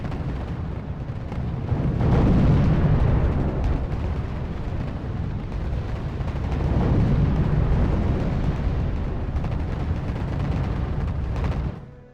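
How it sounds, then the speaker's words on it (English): Distant ARL artillery shelling in the strategy game R.U.S.E., a continuous deep rumble of overlapping booms and explosions that swells and eases in waves, with no talking. "The ARLs are shooting at this stuff from the distance."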